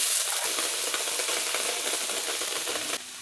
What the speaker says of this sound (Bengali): শুকনো কড়াইতে শুটকি মাছ আমার ভাজা হয়ে গেছে